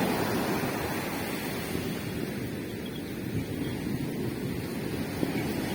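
Sea waves washing onto the shore in the early morning, a steady broadband wash of surf with wind noise, continuous and fairly distant, with no voices.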